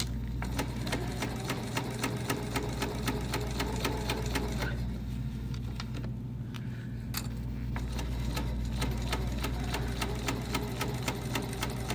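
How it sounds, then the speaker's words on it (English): A sewing machine stitches a cosmetic project bag with rapid, evenly spaced clacking of the needle over a constant motor hum, running steadily with a brief slowdown partway through. "I'm just gonna stitch this on."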